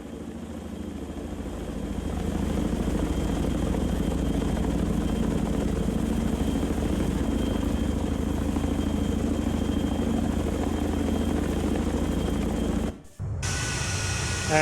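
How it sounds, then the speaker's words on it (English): Chinook twin-rotor helicopter in the Sea Power naval combat game, a steady loud rotor and engine drone holding for most of the clip, then briefly cutting out and resuming near the end. "So we have a Chinook chillin'."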